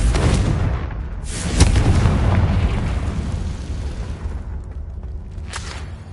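A Confringo fire spell explodes in Hogwarts Legacy, a loud sustained booming blast with a rumbling low roar and a sharper burst partway through, continuing as dense explosive noise.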